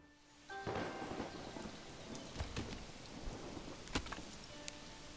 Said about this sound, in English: That's some heavy rain right now.